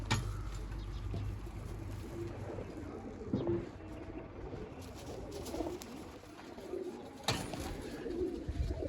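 A flock of about thirty pigeons coos softly and intermittently at a distance, with a few faint sharper bird notes and a brief louder knock partway through.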